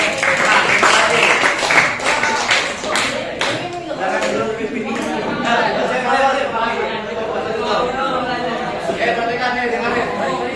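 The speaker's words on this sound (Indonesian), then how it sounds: "kita beri tepuk tangan kepada kelompok Kak" A classroom group claps for the students who just presented, with steady broadband applause throughout. Voices and chatter run underneath, and a few distinct claps stand out early on.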